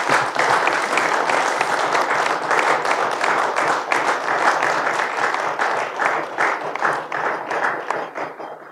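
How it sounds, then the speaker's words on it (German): An audience applauds at a matinée discussion event. The clapping is dense and sustained, loud and close, with no speech over it. "Der Beifall war zwischendurch ja auch schon laut, aber er könnte noch mal lauter werden."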